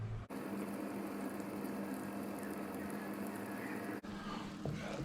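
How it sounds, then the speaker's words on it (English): Berry sauce simmers in a pan, a continuous soft bubbling and crackling patter that stays steady and fairly quiet, with brief breaks near the start and toward the end. "we'll just let that simmer for another minute or two"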